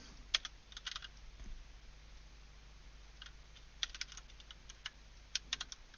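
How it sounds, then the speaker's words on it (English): Someone types on a computer keyboard in short irregular bursts of key clicks with pauses between, close and quiet, with no talk. "I would type something like this."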